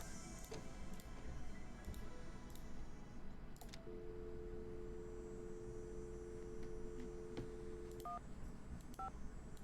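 Telephone keypad tones dialing in the Nancy Drew game Ghost Dogs of Moon Lake, a long steady tone followed by a few short beeps over a low background hum.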